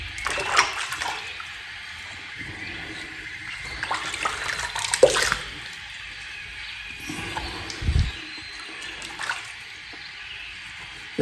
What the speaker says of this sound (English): And then some fresh cold water for me to rinse my face.